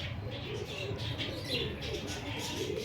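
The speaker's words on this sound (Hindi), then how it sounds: "ये माशाल्लाह आदिल भट्ट साहब के कबूतर हैं जी" Pet pigeons kept by a breeder cooing softly at close range, low throaty calls in a busy loft, with a voice present in the background.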